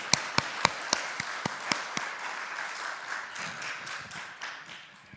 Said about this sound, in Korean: 하나님께 영광의 박수 한 번 더 올려드립시다